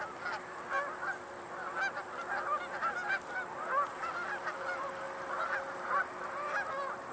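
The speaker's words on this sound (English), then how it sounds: "The duck that you're hearing, those are mallards. Mallards make that sound." Mallard ducks call repeatedly outdoors at a wildlife area, a steady stream of overlapping honking quacks at moderate distance over a constant background hiss, with no voices.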